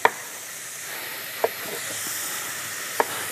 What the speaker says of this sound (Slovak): a spolu chvíľu, asi 5 minút, restujeme